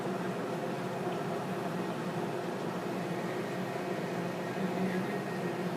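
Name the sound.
dishwasher running in the background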